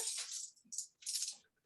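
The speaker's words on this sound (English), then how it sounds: "And I'm going to give it a little stir" A spoon stirs active yeast, honey and warm water together in a bowl, making a few soft, brief scraping swishes, quiet and close, with pauses between the strokes.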